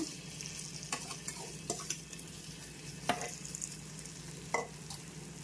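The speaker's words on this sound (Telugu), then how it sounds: "చూడండి, ప్యాన్ హీట్ ఎక్కిపోయింది. ఇప్పుడు మనము ఆమ్లెట్ వేసేద్దాము." Omelette batter fries in a hot pan with a low, steady sizzle, punctuated by a few soft scraping or stirring taps.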